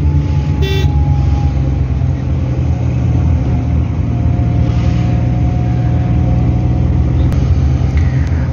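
A car climbs the hilly road into the Margalla Hills, its engine drone and road rumble loud, steady and close throughout, with a brief horn-like tone near the start.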